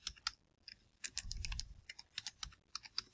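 Typing on a computer keyboard, close and fairly quiet, with quick irregular clusters of crisp key clicks and brief pauses between bursts.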